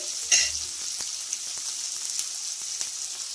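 Onions sizzle and fry steadily in a pan for a curd curry, with a brief stir near the start and small pops and crackles scattered through, close and without talk.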